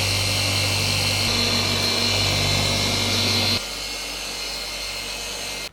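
Machine polisher correcting the paint on a Tesla Model Y, a loud steady motor whine that drops to a lower, quieter drone partway through before cutting off at the end.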